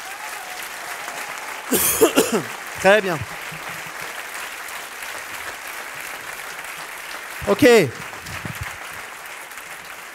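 Audience applause fills the room steadily for about ten seconds, with a few short spoken phrases breaking in over it around the two-second and eight-second marks.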